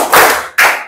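Two loud, crisp unison claps from a fifth-grade class following a counted rhythm, close and punchy, the second coming about half a second after the first.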